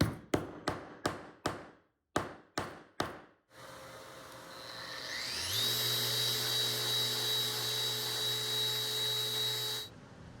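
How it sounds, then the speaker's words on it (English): A 3/4 inch spade bit bores into wood for a sanding block, entered after a run of sharp taps, then a loud, steady drill whine with a rising pitch that holds for several seconds before stopping abruptly. "I'm simply using a spade bit. This is a 3/4"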